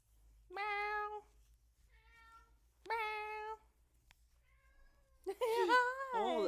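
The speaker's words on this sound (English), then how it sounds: "Kitty meows, Kitty sneezes." Two clear cat meows a couple of seconds apart, followed by a longer, wavering yowl, close by in a quiet room.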